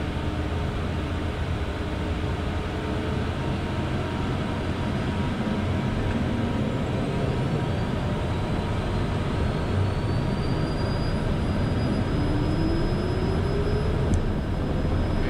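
Cessna Citation CJ1+ business jet on its takeoff run on runway 30, a loud, steady broadband engine roar heard from close by and lasting throughout, with a faint rising whine near the end and no talking.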